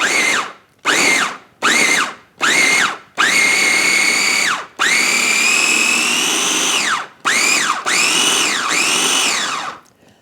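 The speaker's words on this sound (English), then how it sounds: "So we are now ready to whisk this up." An electric blender whirs through a lima bean mixture in bursts: four short pulses, then two long sustained runs and two more short pulses, each rising and falling in pitch, loud and close with no talking.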